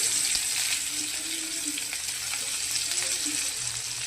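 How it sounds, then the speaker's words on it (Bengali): Onion sizzling in hot oil with black cumin in a home kitchen, a steady hiss of frying with light crackles, close and continuous with no talking. "সামান্য একটু পেঁয়াজ দিয়ে দিলাম পেঁয়াজটা একটু ভাজা হবে"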